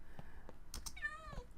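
A single short cat meow comes from a video game world, clear and close, preceded by a few soft clicks and taps.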